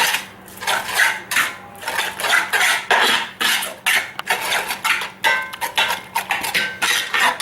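A utensil stirs half a packet of seasoning into food in a pan, giving irregular scraping and clinking strokes that come in short, uneven bursts, close and fairly loud.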